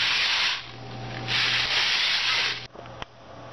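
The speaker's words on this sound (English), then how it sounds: "Listen to my reindeer stick." A reindeer stick rubbed in long scraping strokes gives a dry, breathy rasp over a low steady hum, swelling and easing twice before a couple of short clicks, with no talking.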